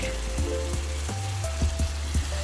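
Eggs go into frying pork giniling (ground pork) in a pan, setting off a steady close sizzle and crackle, with soft clinks and scrapes of a utensil tapping the pan at irregular intervals.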